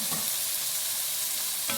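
Steady, bright sizzle of an herb-crusted pork roast frying in a hot pan as it is turned, a continuous close crackle with faint scraping at the start and end, no voices.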